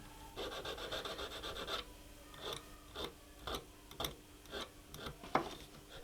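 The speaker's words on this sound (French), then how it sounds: "Je vais les affiner avec une petite lime aiguille" A small needle file rasps against jewelry claws in a jeweler's workshop, a steady scraping run at first, then separate short strokes repeating at a brisk, uneven rhythm, close and fairly quiet.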